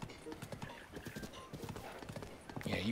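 Rapid clip-clop of a horse's hooves galloping in the video game Breath of the Wild, a steady drumming rhythm up close, with a voice talking over it.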